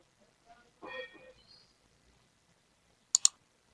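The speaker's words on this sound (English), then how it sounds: "Right click there and click on edit as HTML" A computer mouse gives a quick double click, two sharp faint taps near the end after a brief muffled voice.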